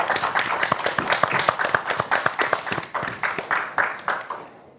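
Audience applause at an outdoor summer evening entertainment event in Gomel, a steady run of crowd clapping with distinct sharp hand claps, holding for several seconds before fading out at the end.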